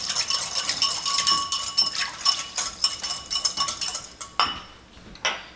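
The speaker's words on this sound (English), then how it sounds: "So this I like to mix in with the lime juice first to get it really broken up. That's why I'm using a whisk." A whisk beating a paste into lime juice in a bowl, rapid rhythmic metallic clinking and tapping of wire against the bowl, close and steady, with a brief pause before a final few strokes.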